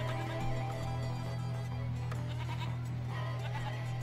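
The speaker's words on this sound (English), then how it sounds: "Sheep farm." Sheep bleat on a sheep farm in the train-building strategy game Railroad Tycoon 2, a few thin bleats heard over a steady low hum and game background noise.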